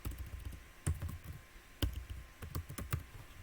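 Someone types on a computer keyboard during a coding session, producing quiet, irregular clusters of key clicks with sharper taps scattered over a few seconds, close but soft, with no talk.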